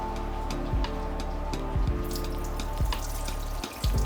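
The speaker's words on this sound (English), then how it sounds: "Let's spill out the water." Soaking water poured out of a cooking pot for a lion's mane mushroom pilaf, a close, steady splashing stream with gurgles and small drips into a sink, alone without talk.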